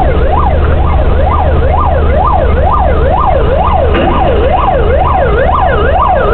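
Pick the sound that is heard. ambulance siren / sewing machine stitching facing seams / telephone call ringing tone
ambulance siren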